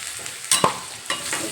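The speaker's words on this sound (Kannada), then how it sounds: "ಹಾಕ್ಕೊಂಡು ಫ್ರೈ ಮಾಡ್ಕೊತೀನಿ" Ground masala fries in a pan for a capsicum dish, a close soft sizzle with two or three quick scraping stirs of a spoon.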